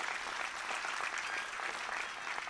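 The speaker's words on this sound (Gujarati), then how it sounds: "એકવાર જોરદાર તાળી થઈ જાય" Audience applause at a Bharatanatyam-style arangetram dance recital, a dense, steady wash of many hands clapping throughout, fairly close and continuous with no talk over it.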